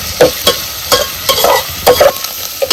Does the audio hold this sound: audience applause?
no